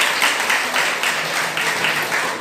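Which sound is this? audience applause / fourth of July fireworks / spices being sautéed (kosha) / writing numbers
audience applause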